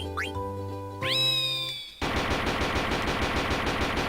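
A chocobo's rapid pecking sound effect from the Final Fantasy IX video game: a fast, steady machine-gun-like rattle of pecks. Before it come chirpy, sliding game tones. The rattle runs loud and continuous over the final two seconds, with no talk.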